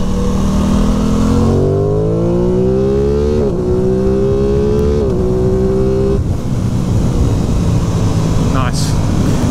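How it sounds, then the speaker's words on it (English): A 2023 Aprilia Tuono 660 Factory motorcycle engine with strong airbox intake sound, revving up through rising gear pulls, loud and close, with brief shifts between climbs. "Lots of airbox sound."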